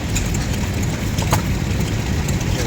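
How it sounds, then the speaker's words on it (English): A small Butler stationary gas engine running at a vintage tractor show, a steady low mechanical chugging drone with faint clicks over outdoor background noise, with no speech. "Little Butler gas engine."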